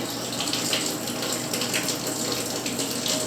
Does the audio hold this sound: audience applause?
no